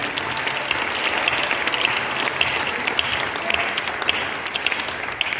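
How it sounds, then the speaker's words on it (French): An audience at a church music convention applauds its sound technicians, a dense, even wash of clapping that holds steady from start to finish without voices breaking through. "J'aimerais qu'on les acclame."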